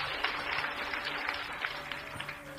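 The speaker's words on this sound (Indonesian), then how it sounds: "Kita beri tepuk tangan, saudaraku." A church congregation applauds together during a morning Bible sermon, steady dense clapping filling the hall at moderate volume, with faint crowd murmur underneath and no clear speech.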